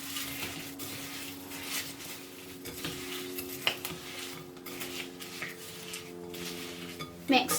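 A spoon clinks and scrapes around a bowl as chocolate cake mixture for Easter egg cakes is stirred, quiet, close and steady with a few sharper knocks near the end.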